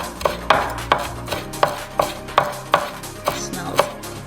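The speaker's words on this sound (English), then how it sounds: "Let's chop this up." A knife chops green onion and parsley on a cutting board, about ten crisp, evenly spaced thuds in a brisk rhythm, close and clear with no talking.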